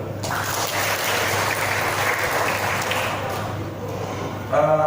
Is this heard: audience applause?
yes